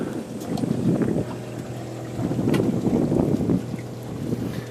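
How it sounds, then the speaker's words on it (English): Low droning hum of a boat's watermaker runs steadily beneath gusts of wind buffeting the microphone, with no voices present. "Got the water maker running. That's what you can hear in the background there."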